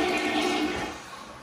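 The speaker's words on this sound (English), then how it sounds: "So flush." A long-unused household toilet in an upstairs bathroom flushes with a loud, close rush of water that churns steadily, then eases slightly toward the end.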